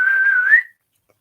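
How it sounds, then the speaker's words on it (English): A single person whistles one sustained, steady tone for just over half a second, rising slightly in pitch at the end before stopping abruptly into silence; loud, close and alone. "I can whistle."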